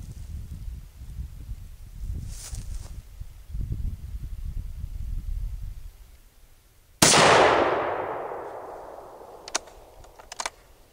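A .222 Remington 55 grain full metal jacket round is fired into concrete stone at 25 yards: a single sharp, loud shot with a decaying crack, following faint low rumbling and followed by a few light clicks.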